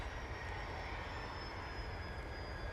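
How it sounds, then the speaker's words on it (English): A Cessna Citation business jet roars on its takeoff run at Manchester Airport, a steady broadband engine rush with a thin high whine running through it, holding level throughout with no voices. "We have a little pocket rocket about to come on, Cessna Citation."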